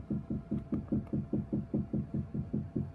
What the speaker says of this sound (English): knocking on the wall again